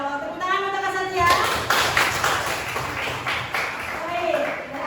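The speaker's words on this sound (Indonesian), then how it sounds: "Tepuk tangan untuk Kak Satya." A group claps for a child during a children's science lesson, a burst of dense applause lasting a few seconds, with an adult voice talking before and after it.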